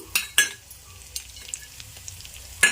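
Ridge gourd pieces fry in a pan with dried red chillies: a low, quiet sizzle broken by a few sharp clinks and scrapes of a utensil near the start and end.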